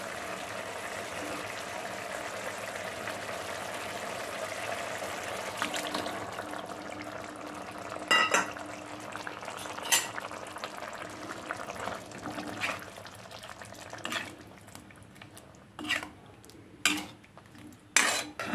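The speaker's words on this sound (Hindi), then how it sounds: "थोड़ी देर उबलने देते हैं" A curry of nutri nuggets and potatoes in gravy simmers in a pot, giving a steady hiss of bubbling broken by sharp utensil clinks and knocks against the pan, with no one talking.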